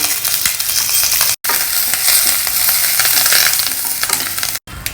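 Chana dal, peanuts, curry leaves and hing crackle and sizzle steadily in hot oil while being stirred, a loud, close, continuous fry with two brief cuts of silence.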